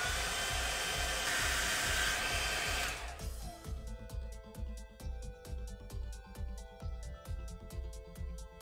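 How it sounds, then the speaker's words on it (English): A hairdryer used on a McFarlane Toys Gold Label Blood Angels Primaris Lieutenant figure blows with a loud, steady whoosh for about three seconds, then cuts off, leaving quieter rhythmic ticking and music. "So we're gonna need to use the hairdryer."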